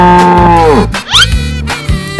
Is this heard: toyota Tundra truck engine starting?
no